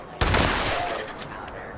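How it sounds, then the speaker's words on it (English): A shotgun with explosive damage fires in Fallout 76: one loud, sharp blast with a long rumbling tail, then a fainter second report about a second later. "See, I love this shotgun."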